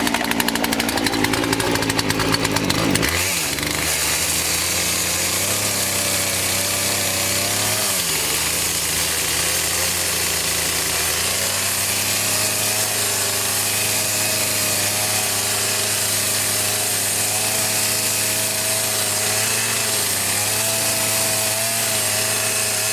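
A chainsaw roars through a plunge cut in the tight space beneath a farm bridge, first revving high and then holding a loud, steady bite into the wood with small dips in pitch, close and continuous.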